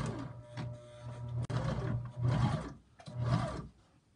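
A sewing machine stitches a straight seam on a homemade fabric face mask, running in several short whirring bursts separated by brief pauses, close and fairly quiet.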